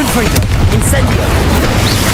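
A Confringo fire spell bursts in Hogwarts Legacy during a Dark Arts duel, a dense, loud boom with crackling blast noise filling the whole moment, game effects layered thickly and a voice shouting spell names over it.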